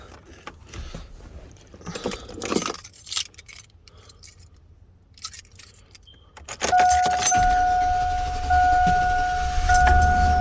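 A 2001-2006 Chevrolet Silverado engine cranks and catches after a starter replacement, following a jangle of keys and a few clicks, then settles into a loud, steady idle with a faint whine, close by and without talk.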